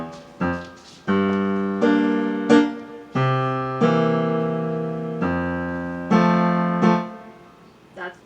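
Solo piano plays a phrase from a jazz-rag piece, staccato notes with the pedal lifted, heard alone and close in a series of separate chords and notes with short gaps between them.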